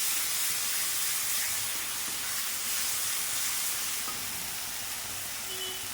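A spiced fish mixture fries in a pan with a steady, even hiss and sizzle throughout, close and unbroken, with no voices.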